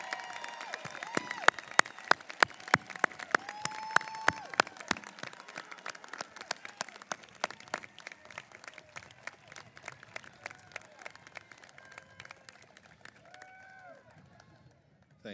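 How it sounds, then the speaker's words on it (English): At a college graduation ceremony, an audience applauds faculty with sustained sharp clapping that peaks early and gradually thins out, heard from within a large hall. "let's give them a round of applause for the gratitude and thanks they deserve"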